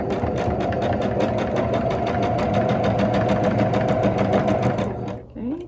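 A sewing machine stitches quilt block fabric in a fast, steady, even rattle up close, running without pause before stopping abruptly near the end.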